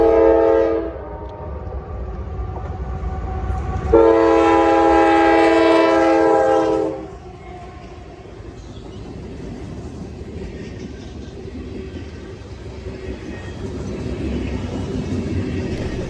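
An empty rail train rumbles past on the Etowah subdivision and sounds a loud, sustained multi-tone horn in two blasts, the second about three seconds long. A steady rolling rumble continues after the horn stops.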